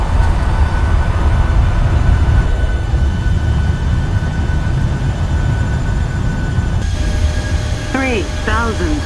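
A Ryanair jet rolls out after landing with speed brakes up and thrust reversers deployed, giving a loud, steady roar and rumble that fills the cabin. Brief high chirps near the end, with no talk.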